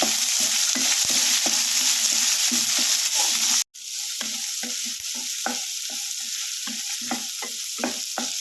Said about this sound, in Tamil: இப்போது ஒரு வெங்காயம் வந்து பொடியாக கட் பண்ணி வச்சுருக்கேன் அதையும் இதில் சேர்த்து விட்றேன் சேர்த்துட்டு இதெல்லாம் சேர்ந்து நல்லா வதக்கிக்கலாம்